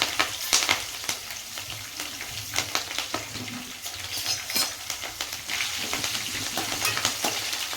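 Curry leaves sizzle and crackle in hot oil for palak rice, with sharp pops over a steady frying hiss and a spoon clinking and stirring in the pan.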